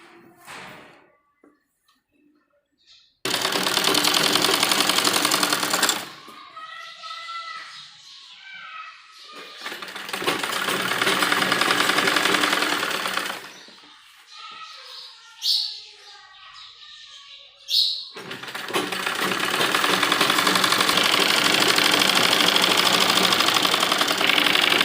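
Domestic sewing machine stitching a 4-inch belt onto an umbrella palazzo, loud bursts of rapid needle rattle in several runs separated by pauses with fabric handling and faint birdsong, heard close.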